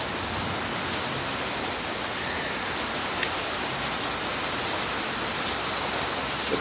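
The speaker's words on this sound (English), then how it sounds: "Yeah, we're getting some rain now" Heavy rain pours steadily during a strong thunderstorm in central Oklahoma, a loud dense hiss of rain on surfaces with water running off a house, constant throughout with no talk.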